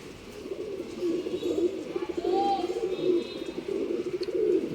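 A pair of Sabja Travel pigeons coo repeatedly at close range in soft, rolling throaty calls.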